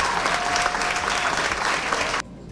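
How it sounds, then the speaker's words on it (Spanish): Loud, dense applause from a crowd at a school graduation ceremony, a steady wash of many hands clapping that cuts off abruptly near the end, leaving a quiet room. "Un aplauso a la administración municipal."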